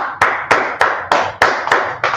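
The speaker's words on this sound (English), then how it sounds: "Let's clap it up again." An audience claps hands in a steady rhythm, about seven sharp, loud claps spaced a little under a third of a second apart, heard close with no talking.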